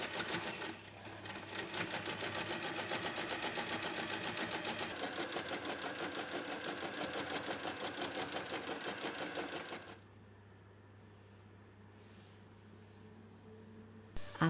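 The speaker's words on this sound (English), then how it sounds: "sew along the fold to secure both the fold and the handles in one go" A sewing machine stitches along the fold and handles of an unlined tote bag, running in a steady, fast, close mechanical whir for about ten seconds, then stopping with a faint hum remaining.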